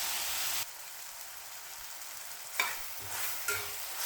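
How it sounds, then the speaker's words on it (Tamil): Five finely chopped tomatoes sauté in a pan for tomato gravy: a brief hiss, then a quieter simmer broken by a few sharp scraping stirs near the end, with no talking. "பொடியாக கட் பண்ண 5 தக்காளி, தக்காளி நல்லா வதக்கட்டும்"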